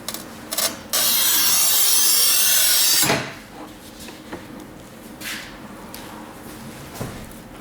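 A Stark MTC 1000 tile cutter scores through 12 mm porcelain stoneware in one loud, steady two-second abrasive pass, framed by a few knocks and handling rattles before and after.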